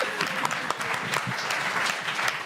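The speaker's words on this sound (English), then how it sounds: "let's give a big round of applause" An audience at a musical comedy night gives moderate applause, a steady spread of individual claps at medium distance, fairly soft overall, with faint voices underneath.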